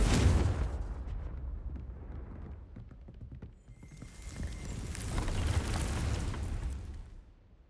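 Fire spells Incendio and Confringo are cast in the Hogwarts Legacy video game, giving loud, rushing blasts of flame and explosive bursts, with a brief lull in the middle before a second long roaring surge.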